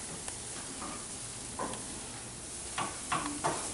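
Onions frying gently in a pan produce a quiet, steady sizzle. A few soft stirring scrapes and clicks come through close by, with no talk.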